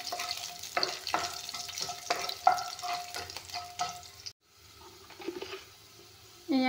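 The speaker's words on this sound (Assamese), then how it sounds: "এয়া নহৰু কেইপিচ অলপমান ভাজি ল'ম।" Garlic pieces frying with five-spice in a pan, a low sizzle broken by scraping stirs and utensil taps, then a brief quieter stretch before the sizzle returns.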